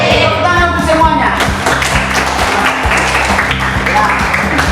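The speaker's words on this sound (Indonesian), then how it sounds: "Tepuk tangan untuk semuanya." A class claps together at the end of a school lesson, fairly loud applause with some distinct individual claps, heard alongside background music or voices.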